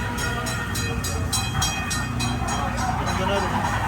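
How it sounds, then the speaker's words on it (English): Train sound effect on a Dollywood amusement ride during the 2023 Harvest Festival, a loud steady rumble with rhythmic clanking pulses, heard from inside the moving ride car. "We're gonna hit a train."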